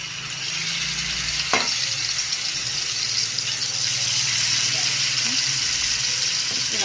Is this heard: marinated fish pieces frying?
yes